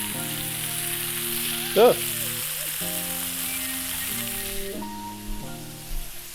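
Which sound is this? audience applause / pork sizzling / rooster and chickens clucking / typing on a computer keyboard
pork sizzling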